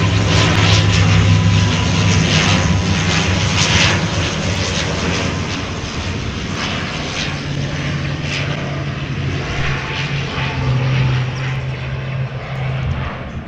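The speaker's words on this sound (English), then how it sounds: "It's coming in for landing." A turboprop airplane comes in to land overhead, a loud, steady broadband engine and propeller roar with a low hum that fills the whole stretch without letting up.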